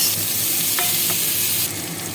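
Papaya sizzles steadily in a hot pan after a tempering of bay leaf and dried chilli, a continuous loud hiss with faint scrapes of stirring.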